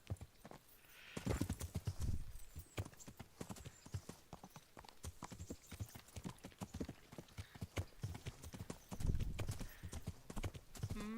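Horse hooves clip-clop at a steady walking rhythm in the video game Kingdom Come: Deliverance, fairly close, with an occasional snort and no talking.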